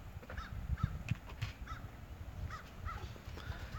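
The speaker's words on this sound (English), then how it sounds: "Got the crows over there." Several crows caw in short repeated calls at a moderate distance, scattered irregularly over low outdoor background noise in rural Tennessee.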